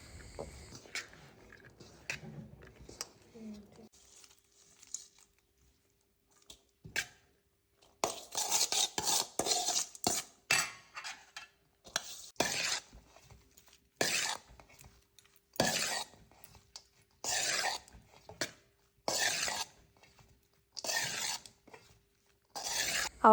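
Cooked rice being mixed with sesame oil and tempered lemon juice for lemon rice: a run of close scraping, stirring strokes in bursts, with a quiet pause before the mixing starts.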